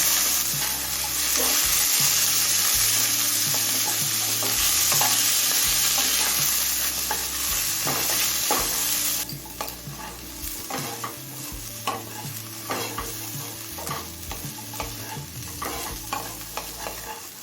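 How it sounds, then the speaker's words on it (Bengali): Cauliflower pieces and carrots frying in a pan, a loud continuous sizzle with repeated spatula scrapes and stirring knocks, easing slightly partway through; nobody talks. "ফুলকপিটা দিয়ে আরও পাঁচ ছ মিনিট ভেজে নিলাম"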